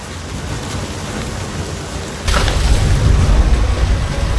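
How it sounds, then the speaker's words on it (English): A thunderstorm in the video game What Remains of Edith Finch hisses with steady heavy rain, then a close, powerful thunderclap breaks in and rolls on as a deep rumble under the downpour. "The thunder sounded much too close and full of angry power"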